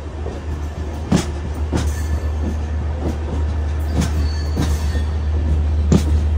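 The Sampark Kranti Express rolls along the rails toward Kochuveli at night, a steady low rumble from inside the carriage broken by sharp periodic wheel clacks and faint squeals, with no talk.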